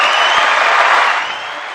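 A canned clapping and light cheering sound effect fired from a podcast mixer pad, loud and dense, then tapering slightly toward the end.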